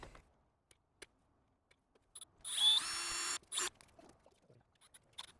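A power drill tightens a bolt on an electric hand truck go kart: a short, close, high-pitched whirring burst followed by a second brief spin, surrounded by quiet clicks and handling noises.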